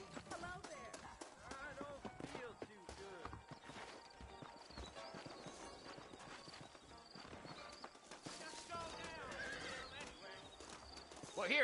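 Horses whinny and hooves clip-clop in the Red Dead Redemption video game, with repeated neighs and trotting hoofbeats over game music and ambience, the loudness rising sharply at the end.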